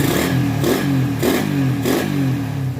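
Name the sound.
motorcycle engine revving, fitted with 28mm Keihin carburetor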